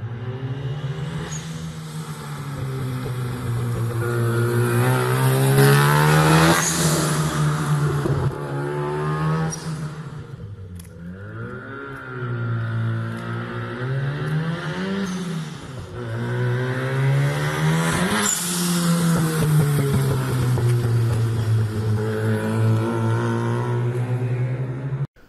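A Mazda RX8 with a swapped RX7 rotary engine revs hard and accelerates in a parking lot, loud and close, with repeated rising pulls, brief dips between gear changes and a pause near the middle before pulling again.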